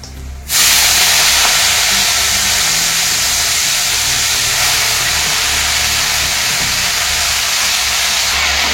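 Fenugreek leaves hit hot oil with garlic and green chili and erupt into a loud, steady sizzle that starts abruptly and holds as a constant close hiss.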